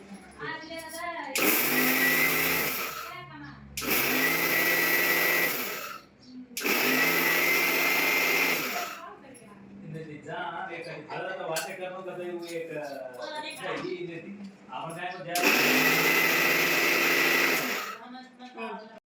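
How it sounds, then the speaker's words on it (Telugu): A kitchen mixer grinder runs in short loud bursts while grinding roasted spices into powder, with pauses between pulses. A person talks in the gaps and briefly under the motor. "మెల్లమెల్లగా ఆడుకుంటూ మిక్సీ పట్టుకోవాలి."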